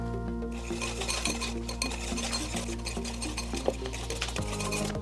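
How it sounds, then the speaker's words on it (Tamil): A whisk stirs flour little by little into milk in a bowl for a quick snack batter, giving steady close scraping and clinking strokes over a low background hum, with no talk. "இதை இதில் கொஞ்சம் கொஞ்சமாக சேர்த்து கிளறிக்கலாம்"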